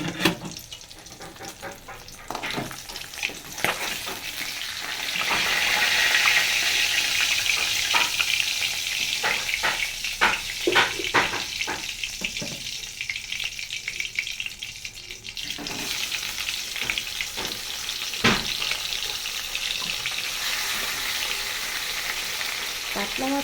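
Fish heads, rohu among them, fry in hot oil in a home kitchen, giving a steady close sizzle and crackle with scraping and stirring strokes throughout, and no talking.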